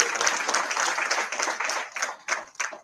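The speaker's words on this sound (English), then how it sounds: "Please give him a round of applause and thank him for that." Audience applause at the grand opening of the US Consulate in Bengaluru: a dense, steady patter of many hands clapping, fairly close and full for about three seconds, easing slightly toward the end.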